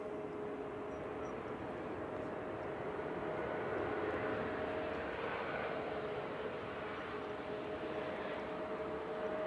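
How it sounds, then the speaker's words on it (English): EasyJet airliner arriving from Amsterdam touching down at Manchester Airport, a steady distant jet roar with a faint whining tone, continuous and moderately quiet throughout. "EasyJet from Amsterdam touching down."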